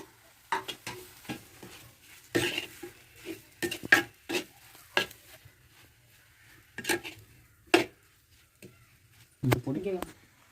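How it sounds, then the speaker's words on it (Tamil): Potato masala for bondas being stirred in a pan with spice powder, heard as scattered scraping and clacking strokes in bursts, alternating with stretches of quiet. "சேர்த்துக்கலாம் மசாலா பொடி வந்து நல்லா வெந்துருச்சு கிழங்கு சேர்த்துக்கு கிண்டி விட்டுக்கலாம்"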